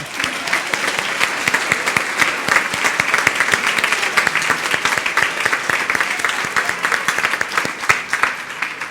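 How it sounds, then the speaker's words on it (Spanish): A Sunday Mass congregation claps louder and harder inside the church, a dense, close burst of many hands with sharp individual claps standing out, continuing strongly for about nine seconds. "un aplauso más fuerte"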